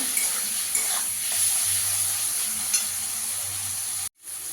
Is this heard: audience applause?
no